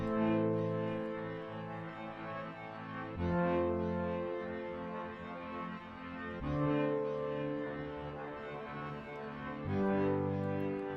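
A sustained synth pad plays dry and unprocessed, holding rich layered chords that change every few seconds, loud and alone with no voices.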